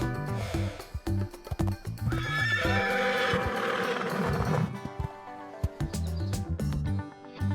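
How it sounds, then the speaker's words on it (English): A horse whinnies loudly and at length, surrounded by sharp, uneven clip-clop hoofbeats close by. "Horses are animals that live close to humans."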